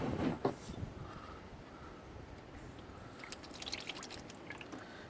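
Transmission hydraulic fluid drains from a John Deere 1025R/1023E compact tractor, trickling and dripping quietly into a puddle, with a few louder splashes at the start and soft irregular drips after.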